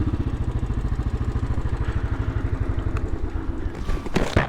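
A motorcycle engine runs nearby with a loud, rhythmic pulsing thrum that holds steady, then rises in a brief burst of revving and clatter near the end.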